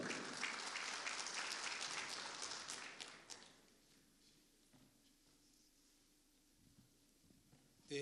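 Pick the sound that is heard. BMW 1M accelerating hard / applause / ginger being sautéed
applause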